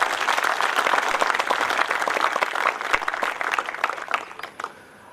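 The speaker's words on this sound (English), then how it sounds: "So a big round of applause to all of you." A graduation audience at an MBA ceremony breaks into loud, dense applause that holds steady for several seconds, then thins out and fades into near quiet at the close.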